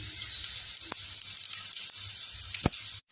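Whole cumin seeds sizzle steadily in hot white oil with potato pieces in the pan, a continuous close hiss with a few soft pops, cutting off sharply just before the end.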